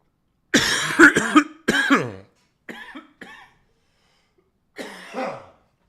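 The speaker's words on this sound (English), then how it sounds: "I've been coughing for like 5 weeks, everybody." Several harsh coughs in quick bursts near the microphone, followed after a pause by two shorter coughs and one more later.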